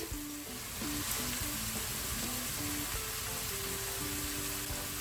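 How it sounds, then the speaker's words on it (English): Onion, carrot and shiitake mushrooms sautéing in olive oil in a frying pan, a soft, steady crackling sizzle with light spattering, fairly quiet and continuous with no talking. "and the shiitake mushrooms, and I'm gonna saute them a little"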